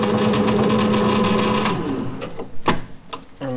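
A Warco mill and Boxford lathe run under no load in forward screw-thread feed, a close, steady mechanical whir with gear chatter that eases off and is followed by a few clunks and knocks.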